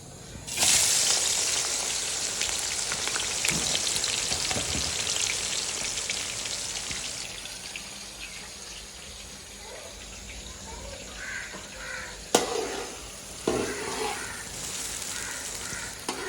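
Onions and turmeric fry in a pan while making chicken pulao, a bright crackling sizzle that is loudest early and gradually softens, with a few sharp clatters and knocks later on.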